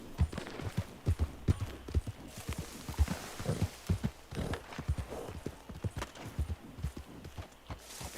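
Horse hooves clip-clopping in the Red Dead Redemption 2 video game as a horse climbs a mountain road, a steady walking rhythm of close, distinct hoof strikes throughout, with a faint neigh.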